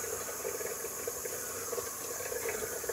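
Steady running water pours from a tap, a continuous close hiss with faint splashing as hands are rinsed underneath.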